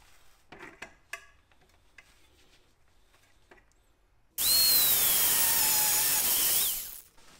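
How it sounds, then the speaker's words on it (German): A few faint clinks and taps, then an angle grinder bursts in loud, screeching as it cuts through a car tie rod end for about three seconds before winding down. "Ich habe jetzt keine mit einem vernünftigen Blatt hier, deswegen nehme ich die Flex."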